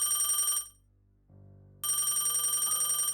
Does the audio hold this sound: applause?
no